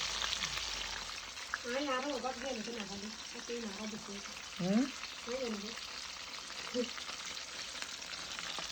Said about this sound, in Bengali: মশলা টসলা মাখায় নিয়েছে তারপরে পাতা দিয়ে মোড়ায় মোড়ায় তেলে দিচ্ছে